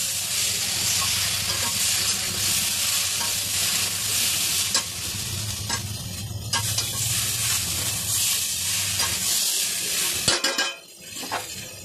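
Fish roe fritters and vegetables are stir-fried with spices in a pan, a loud continuous sizzle with rhythmic scraping spatula strokes and occasional metal clinks against the pan, close up with no talking.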